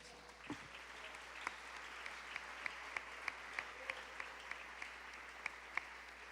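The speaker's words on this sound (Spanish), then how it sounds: "Dale una ofrenda de palmas." A church congregation applauds during a service, a faint, distant, continuous patter of many hands with sharper individual claps standing out at a regular pace.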